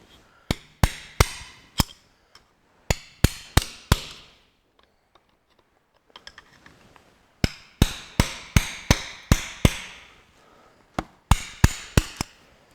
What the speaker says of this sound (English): My favourite bloody screwdriver that I bash shit out of all the time.